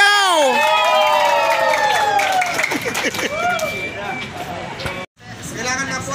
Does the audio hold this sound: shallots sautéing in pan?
no